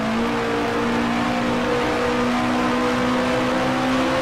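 A 1966-era Formula One race car in the Grand Prix Legends game, at the South African Grand Prix, drones with a steady, loud, high engine whine throughout, holding a constant pitch without a clear break.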